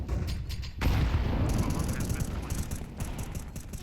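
Grenades burst in a Counter-Strike match, a loud boom that leads into a rumbling wash of explosion and gunfire noise, with a commentator talking over it.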